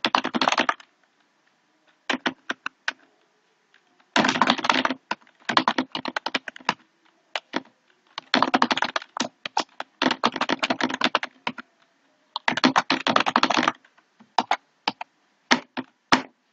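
Rapid typing on a computer keyboard while entering sign-up details, bursts of close, crisp key clicks separated by short pauses, with no voices.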